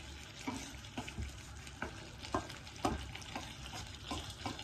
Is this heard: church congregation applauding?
no